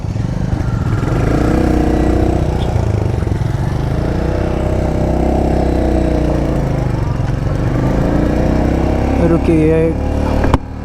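A Royal Enfield Hunter 350 motorcycle engine runs loud and steady close up, its revs rising and falling as it pulls through the gears, with a voice speaking briefly over the engine.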